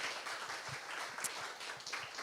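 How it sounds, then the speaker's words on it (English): Audience at a sport and environment panel event claps after the discussion, a brief, even wash of applause at moderate level with no talking. "Please clap your hands."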